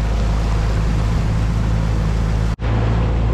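A small, underpowered outboard engine driving a tiny inflatable boat, giving a loud, steady low drone with wind and water rush close by, broken by one brief dropout near the end.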